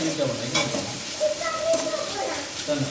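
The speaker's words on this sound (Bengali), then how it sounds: "চিংড়ি মাছ এবং ডিমটা ভালোভাবে ভেজে নেব।" Prawns and egg frying in a pan for fried rice, a steady low sizzle under repeated stirring and scraping, with faint voices of children in the background.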